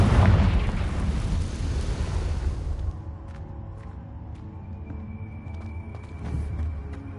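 A Confringo spell explosion in the video game Hogwarts Legacy: a loud close blast that roars and rumbles for a few seconds, then fades into quieter ambience with scattered small clicks and a low swell near the end.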